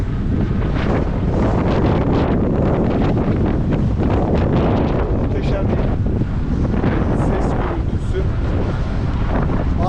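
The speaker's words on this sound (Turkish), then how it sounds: "rüzgarın ne kadar şiddetli estiğini de görüyorsunuz" Strong wind buffets the microphone in a constant, loud roar, with the wash of waves and surf blending underneath, on the coast of the Patara-Kaş area of Turkey.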